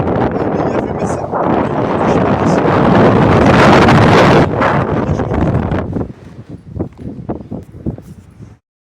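Loud, roaring wind on a coastal rampart in Brittany buffets the microphone for about six seconds, then drops to fainter gusty bursts before cutting out.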